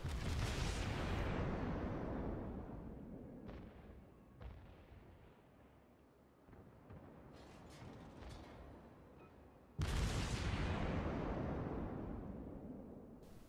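Heavy naval gunfire booms in a warship battle game, aimed at a Kuma-class light cruiser: a loud broadband blast at the start decays into rumbling, smaller reports follow, and a second big salvo erupts near the ten-second mark.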